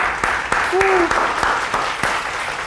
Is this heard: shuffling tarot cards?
no